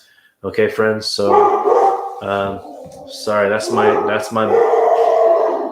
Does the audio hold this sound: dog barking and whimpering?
yes